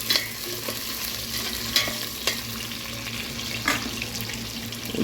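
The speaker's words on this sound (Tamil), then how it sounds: "பொடி வெங்காயம் சேர்த்துருக்காங்க அதையும் நல்லா கிண்டி விட்ருக்காங்க" Finely chopped onion sizzles in hot oil for a sardine curry, with a steady frying hiss and a few sharp stirring clacks against the pan, close and moderate in level.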